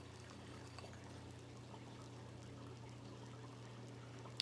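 Sweet drizzle is poured over a strawberries and cream bread pudding: a soft, steady, quiet pour that runs unbroken for a few seconds, with no talking.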